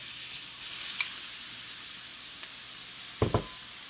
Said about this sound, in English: Next step is to add the onions, the garlic, and the ginger.